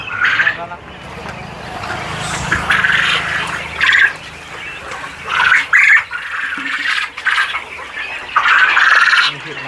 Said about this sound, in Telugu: ఇక్కడ మాక్సిమం ఎన్ని కంజు పిట్టలు ఉంటాయన్న